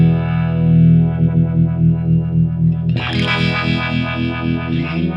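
A distorted electric guitar runs through the Vibe modulation effect on a Sonicake Matribox multi-effects unit, with sustained chords swirling in a wide stereo pulse, then a brighter, harsher strummed section near the end. It is loud and close.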